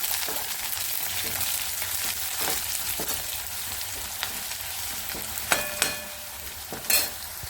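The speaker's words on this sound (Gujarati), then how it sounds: "હવે એમાં લીલું લસણ ઉમેરી દઈશું તેને થોડું સાંકળીશું" Green garlic sautés in a pan with a steady, moderate hiss, joined by a few scraping stirs and brief clinks of a utensil.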